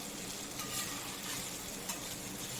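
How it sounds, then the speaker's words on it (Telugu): Fish frying in a pan of hot oil, a close, continuous sizzle and spatter with light stirring noise over a short stretch, without any speech. "ఈ విధంగా ఫ్రై అవుతూ ఉంటుంది"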